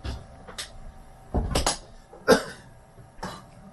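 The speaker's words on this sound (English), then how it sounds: "I think you'll find that coughing is not an involuntary action." A few short, sharp coughs burst out in the cabin of a sailing boat, spaced irregularly over a few seconds against quiet background noise.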